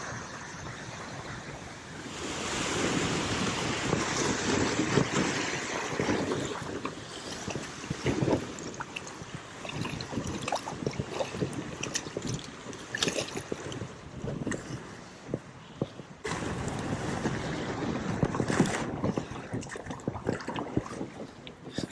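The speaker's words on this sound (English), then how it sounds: "Look at these waves. Waves are crazy." Ocean surf breaking around a fishing kayak, a continuous wash of waves and wind with surging swells and a brief lull partway through, fairly close and steady.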